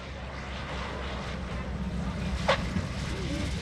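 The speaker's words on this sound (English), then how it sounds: "the leader lands long to ensure that there's enough room between him and the next pilot to ensure safe landings for both" A T-34 Mentor propeller airplane landing at an airshow, heard as a steady, distant engine drone mixed with wind-like noise, with one brief louder burst midway.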